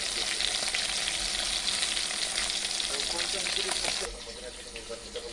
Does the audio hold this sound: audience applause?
no